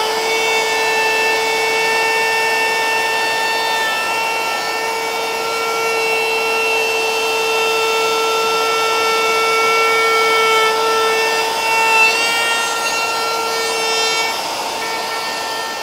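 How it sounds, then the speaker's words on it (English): A power cutter making a climb cut into wood, a loud sustained high-pitched whine with steady tones throughout and slight shifts as the blade bites deeper, no speech. "So I'm going to do a climb cut, drop in, and I'm going to hold onto it."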